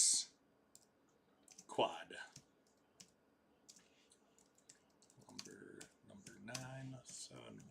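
Keys clicking on a computer keyboard in irregular bursts during a baseball card team draw, close and fairly quiet, with someone speaking over parts of it.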